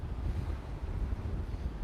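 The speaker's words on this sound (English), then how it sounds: "Lots of wind." Strong wind buffets the microphone by the water near waves, a continuous loud rushing roar with no voices.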